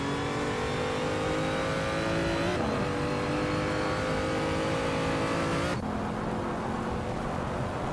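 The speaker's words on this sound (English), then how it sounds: "Amy is driving a 2015 BMW CSL Homage, the same as the leader" A 2015 BMW CSL Homage racing in a video game, its engine droning loud and steady with rising pitch through the gears, two sharp shifts cutting the tone before it climbs again.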